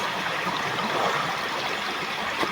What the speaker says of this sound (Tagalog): Malapit lang naman kami sa ilog dito guys.